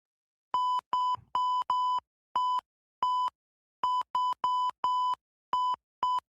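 A series of about a dozen identical electronic censor beeps, each a steady mid-pitched tone lasting a fraction of a second, spaced irregularly with silence between.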